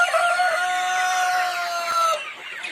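Two-month-old poultry calling steadily at close range, a mix of rooster-like crowing tones and clucks overlapping for a few seconds, with no talking.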